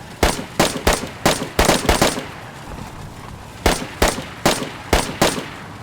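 Gunfire fired from a moving car in the DayZ Expansion Mod game: two loud bursts of rapid sharp shots, each about six reports, separated by a short pause over a low vehicle rumble.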